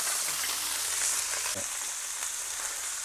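Prawns frying on a tawa in a mix of ghee and coconut oil, giving a continuous dense close sizzle that holds steady throughout, with a faint scrape partway through.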